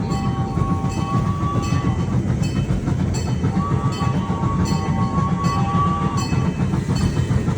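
A Union Pacific train rumbles steadily past up close near a railroad crossing, with a loud continuous low roar, rhythmic wheel clatter and faint high squealing tones throughout.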